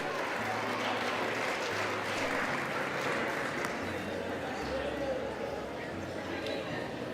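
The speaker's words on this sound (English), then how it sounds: "oh, they clap with a nominee" Applause fills the US House chamber during a Speaker vote as a dense, steady clatter of many hands that runs the whole time. Someone talks over it, with other voices murmuring in the room.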